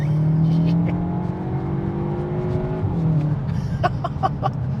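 A 370BHP Cupra Formentor SUV with an ABT tune accelerating hard, its engine note climbing through gears with a brief shift dip, heard from inside the car, loud and steady.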